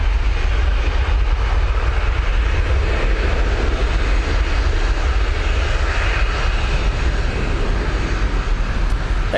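A Virgin Atlantic Airbus A350-1000 landing at Manchester Airport after arriving from New York JFK, its engines a loud, continuous broadband roar that fills the whole stretch without a break.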